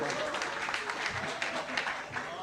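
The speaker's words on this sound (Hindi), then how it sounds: "ज़ोरदार तालियों के साथ उनका इस्तकबाल करें" Loud, dense applause from an audience welcoming a poet at an All India Mushaira in a celebration hall in Nagpur, continuous clapping throughout with crowd noise mixed in.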